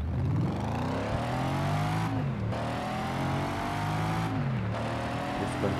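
A race car engine in the Gear Club racing game screams upward through the revs, cuts out sharply on two gear changes and climbs again each time, loud and continuous, with no talk.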